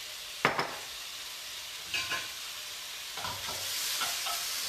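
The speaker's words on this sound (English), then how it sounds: "It's stir frying, which means we need a really, really good heat." Chicken stir-fries over high heat in a hot pan, with a few sharp stirring clatters and scrapes over a steady hiss.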